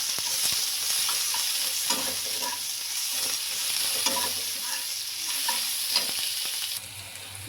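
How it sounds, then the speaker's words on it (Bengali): Onion and green chillies frying in a pan, giving a steady, close sizzle with occasional scraping stirs, continuous and fairly loud with no talking. "এবারে এটাকে আমি পুরো লাল লাল করে ভাজা করে নেব।"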